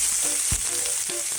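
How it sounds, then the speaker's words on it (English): Fresh garden kale fries in leftover fish oil with a loud, close, hissing sizzle and one dull knock as the leaves are turned. "We turn our fresh kale from the garden."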